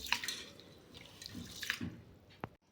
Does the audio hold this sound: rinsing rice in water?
yes